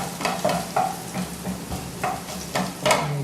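Garlic and onions saute in extra virgin olive oil while a wooden spoon stirs them in rhythmic scraping strokes over a steady close sizzle.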